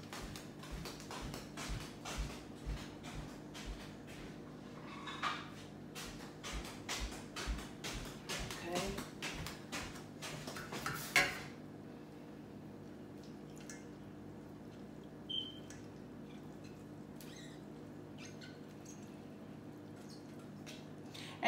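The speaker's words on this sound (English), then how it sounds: "spatula so I can strain it a little better." Forsythia jelly liquid is pressed through a strainer with a spatula, giving soft repeated drips and squishes for about eleven seconds, then near silence with a couple of faint drops.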